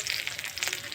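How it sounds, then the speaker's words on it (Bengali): Ginger garlic paste sizzles steadily in hot oil in a pan, a close, continuous frying hiss with no talk. "আদা রসুন বাটাটা একটু ভেজে নেব।"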